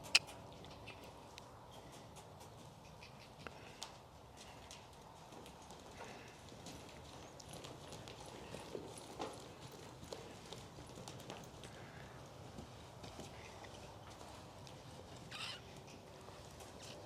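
A young colt on its first ride under saddle makes steady, distant clip-clop hoofbeats on the ground, with faint bird calls in the background and almost no talk.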